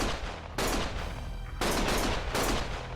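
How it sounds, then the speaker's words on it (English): Gunfire in Lost Judgment: sustained bursts of rapid shots in three loud, dense volleys separated by brief lulls, harsh and close with no talk. "Stop shooting!"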